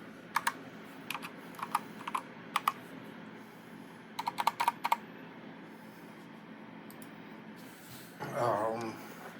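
Bursts of quick, clacky keystrokes on a Corsair K65 RGB Mini 60% mechanical keyboard, close and crisp, separated by pauses, followed by a short stretch of speech.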